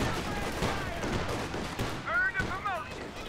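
An MG42 machine gun fires in Company of Heroes 2 as bursts of battlefield gunfire rattle at mid-distance, heard beneath a commentator's running talk.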